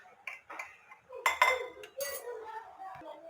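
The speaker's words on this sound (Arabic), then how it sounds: "دابا راني خلطنا الكاكاو" A spoon clinks against a bowl while stirring cocoa into a seffa mixture of vermicelli, giving several close, irregular metallic taps and scrapes with quiet gaps between them.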